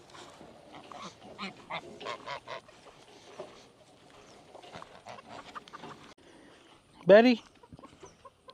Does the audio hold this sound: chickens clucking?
yes